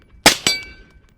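At a shooting range, a gunshot strikes a steel target at 50 yards: a sharp, loud metallic clang, then a second ringing hit that decays quickly into quiet.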